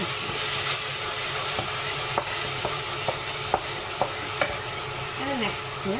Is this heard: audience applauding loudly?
no